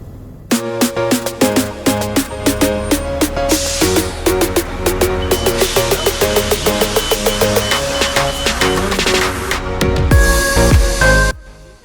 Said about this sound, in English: you can see the helicopter is getting grounded now